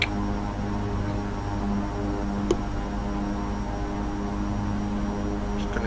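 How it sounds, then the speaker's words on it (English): Simulated EMB110 twin turboprop engines droning at full takeoff power during the takeoff roll, a loud steady low hum with a faint high whine and no pauses, no voices. "Throttles for all they're worth. 80. V1."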